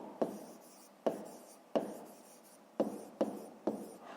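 Pen strokes on paper while a math exercise is worked out, a series of six short, distinct scratches with pauses between them, close and fairly quiet, with no talking.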